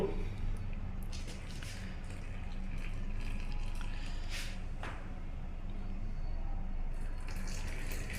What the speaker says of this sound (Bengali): তো আমরা এখন গরম পানিটুকু দিয়ে দেব